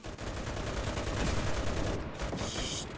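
Loud, heavy tank cannon fire in the game Enlisted, a dense continuous barrage of booming shots and blasts lasting several seconds.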